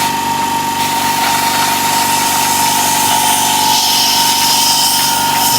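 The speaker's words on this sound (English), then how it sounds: "I have set up next to me here my compressor on a blower" An air compressor driving a blower attachment in a woodturning workshop runs as a loud, steady mechanical drone with a constant hum and hiss throughout, with no talk.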